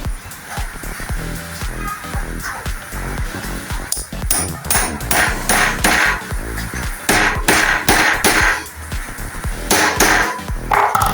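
Nails hammered into a rubber hinge on a high-speed table setup, ringing in a dense run of sharp, loud metallic strikes, some in quick bursts, with no talking.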